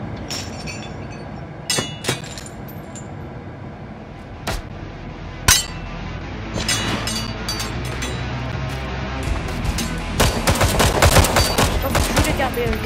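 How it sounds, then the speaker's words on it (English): Scattered gunshots and clinking, glassy impacts in the VR shooter Hard Bullet, isolated sharp cracks early on, then denser, louder rattling fire building toward the end. "Stop shooting at me, I'm gonna get pitchforked."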